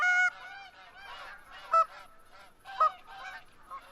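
Canada geese honk in a hunting video game, several close, nasal calls repeating irregularly over a few seconds with sharp louder honks standing out.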